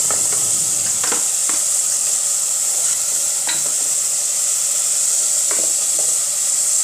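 Salt cooking in a hot pan for kaddu kofta gravy, a loud, constant sizzling hiss with occasional stirring scrapes, close up and without speech.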